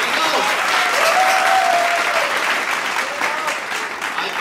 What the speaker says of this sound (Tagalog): Pumalakpak ang gustong manalo.